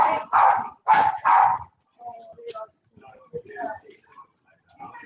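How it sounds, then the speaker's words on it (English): Three loud, close barks from a dog outside come through an open window in quick succession, followed by a person talking. "My window is open, so that ain't my dog barking this time."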